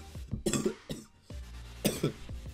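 A person coughs several times in a row in short, harsh bursts, close and fairly loud, with a brief throat-clearing sound among them and no speech.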